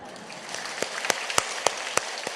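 A church congregation applauds during a Sunday service, a dense wash of many hands clapping, with a few sharper claps standing out near the listener.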